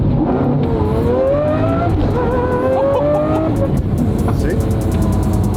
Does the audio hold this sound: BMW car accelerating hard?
yes